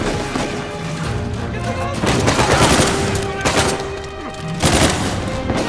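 Uncharted 4 gameplay gunfire: repeated loud bursts of shots and booms over several seconds, with voices talking underneath.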